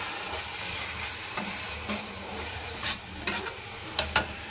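A spoon stirs turmeric, red chilli powder and coriander powder through potatoes in a pan for restaurant-style dum aloo, giving soft scraping strokes and a few sharper clinks over a quiet, steady sizzle, with no talking.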